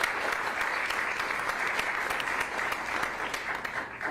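Steady, dense applause from an audience at a county address, sustained for several seconds at an even level, with no talking over it.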